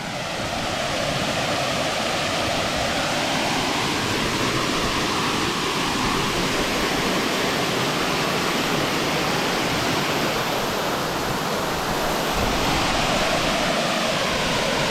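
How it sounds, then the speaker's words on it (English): Confusion Falls, a double waterfall on a creek, roars with a loud, unbroken, close rush of falling water for the whole stretch, with no voices. "It's actually two waterfalls."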